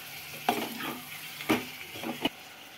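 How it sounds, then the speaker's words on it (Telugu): Vegetable curry frying in a pan and being turned with a ladle, giving a soft sizzle broken by three sharp scraping clatters of the ladle against the pan. "అప్పుడు ఒకసారి మళ్ళీ ఇలా తిప్పాలి"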